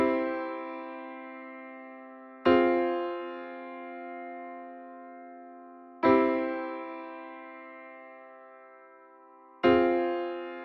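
Sustained chords alternating between a home major chord and a minor four chord, each struck together and left to ring and decay for about three and a half seconds before the next, four strikes in all, with no voice.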